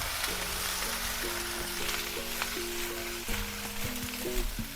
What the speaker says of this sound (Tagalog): Sa same nga pan, aton nga carrots. Gisa-gisahan tala ni siya.